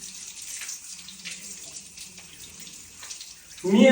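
Tap water runs steadily during ritual ablution as the right foot is washed, a soft continuous flow that swells into a louder, closer splash near the end.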